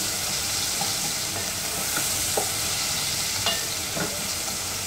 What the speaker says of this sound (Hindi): प्याज को ट्रांसपेरेंट होने तक फ्राई करेंगे।